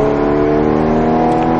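A Porsche Cayman GTS revs hard under throttle on a track, a loud, steady engine drone with strong harmonics that holds close and continuous throughout.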